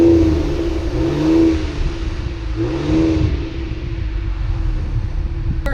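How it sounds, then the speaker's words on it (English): A 2019 Ford Explorer Sport on a test drive, its engine revving up twice in rising surges over a steady, loud road and cabin rumble. "let's take the Explorer Sport out just to see how it drives."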